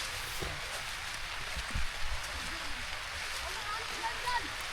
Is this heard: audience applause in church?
no